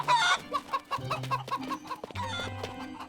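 A cartoon ogre's voice imitates a chicken with a rapid series of loud, squawking clucks in an uneven rhythm, ending in a longer drawn-out cackle.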